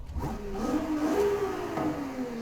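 A Ferrari 296 GTB V6 engine in a video game, with modified exhaust and intake, revs up and down in a single smooth sweep, its pitch rising then easing off, fairly close and steady.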